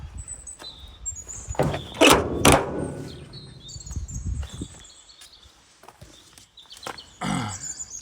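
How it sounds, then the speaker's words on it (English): Rear door latches on a 2018 Ford Transit 2.0 TDCi 130 EcoBlue one-way tipper van give a few sharp metallic clunks, two close together, then another after a pause, over quiet outdoor background. "So there are your latches for your rear door."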